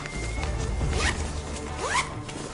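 A zipper pulls along the pocket of a 5.11 tactical backpack in two quick, close, crisp zips, the second a little longer, with no voices.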